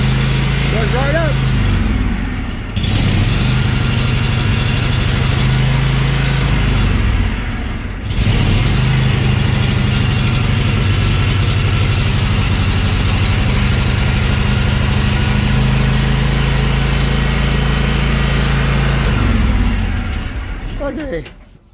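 A Toro TimeMaster 30-inch lawn mower engine runs loud and steady throughout, with a low droning idle and two brief dips before it winds down at the end; the fuel is stale, left over from last year.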